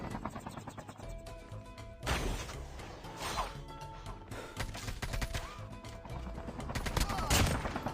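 Gunfire rings out in Call of Duty Mobile, with sharp reports arriving in uneven bursts among thuds, crashes and whooshes from the battlefield, at a faint overall level with no voices.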